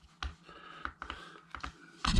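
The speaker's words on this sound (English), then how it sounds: "the buttons you can hear clicking are the back buttons on the back of the console" Back buttons on an Anbernic RG35XX retro gaming handheld click several times at close range, short dry taps in an uneven rhythm, ending with a louder rustle.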